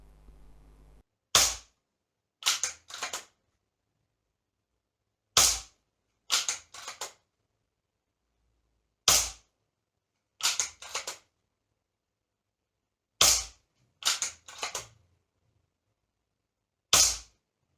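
Sharp, dry shots from a Hatsan Vectis airgun fitted with a Vyrock silencer on a UNF thread, about eleven cracks fired singly and in quick pairs or triplets, loud and close with silence between.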